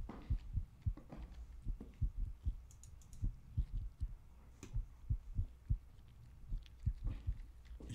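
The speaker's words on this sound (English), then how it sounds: "Freaking heartbeat." A thudding heartbeat effect in the horror game Wrong Floor, low paired thumps repeating steadily and quietly throughout, with faint clicks in between.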